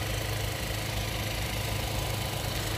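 A Hyundai Bayon's 1.0 turbo engine with a DCT transmission idles at normal revs, giving a steady, loud, even drone throughout with no talking.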